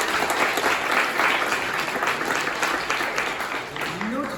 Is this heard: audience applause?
yes